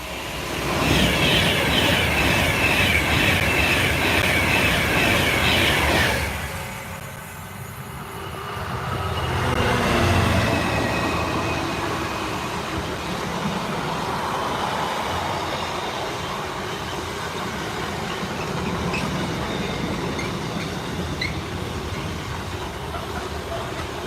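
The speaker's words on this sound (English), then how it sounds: "oh yes, freight train." A freight train passes a station platform, its loud rumble and clatter of wagons rolling by, with wheel screech and a brief lull, then a continuing softer rolling rumble as it moves on.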